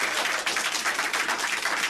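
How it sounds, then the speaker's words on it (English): Applause from an audience at a roundtable discussion panel: a dense, steady patter of many hands clapping, moderately loud and continuous throughout. "we'll give the whole panel a round of applause"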